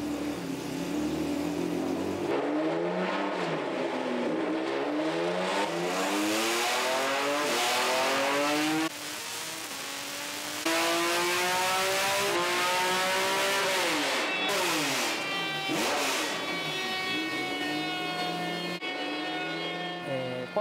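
A Kakimoto Racing time-attack car on a chassis dyno in Sakai, Osaka, revs loudly and repeatedly, its engine sweeping up and down through one rev run after another with short breaks between them.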